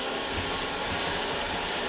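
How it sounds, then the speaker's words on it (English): Electric hand mixer beaters churning sugar cookie dough in a home kitchen, a steady loud whirring motor drone, close and continuous with no talking. "I'm going to take, again with my beaters, and I'm going to mix that in together"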